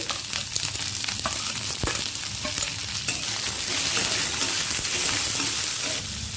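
Diced onion and chopped garlic fry in hot oil with panch phoron, giving a loud, continuous close sizzle with stirring scrapes, and the frying grows slightly stronger partway through.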